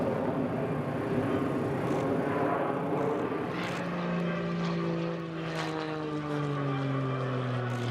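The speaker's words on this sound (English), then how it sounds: "a highly specialised aerobatic and racing aeroplane" An MXS-RH aerobatic racing propeller plane's engine drones loudly and steadily at an airshow at Barksdale Air Force Base, its pitch sliding downward as it passes close by.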